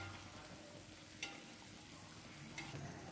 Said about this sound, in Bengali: লাল লাল করে ফ্রাই করে নেব